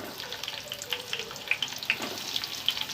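Chopped onion sizzles in half a spoon of hot oil on a tawa for chhole masala, a steady close crackle with scattered pops and spits, and no talking.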